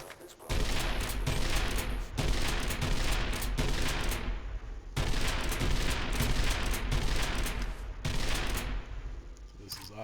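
A pump-action shotgun firing in the video game Angels Fall First, loud blasts in quick bursts with short pauses between volleys, alone with no talk over it.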